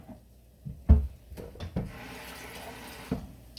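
Water runs from a kitchen tap for about a second, a soft hiss framed by a few thuds and knocks of handling, with no talking.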